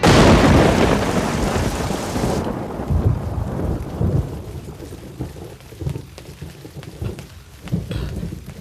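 A thunderstorm with heavy rain opens with a loud rumbling roll of thunder that fades into a steady, dense wash of rain. Softer rumbles and patters continue close by throughout, with no talking.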